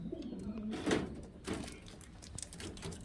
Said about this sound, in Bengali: এটা কিন্তু নর পায়রা